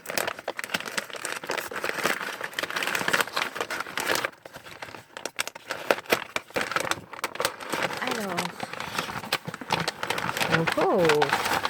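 Tape and bubble wrap crinkle and rustle as a parcel is unwrapped, with bursts of crumpling and tearing close by while people talk over and between the handling noises.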